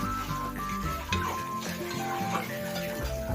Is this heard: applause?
no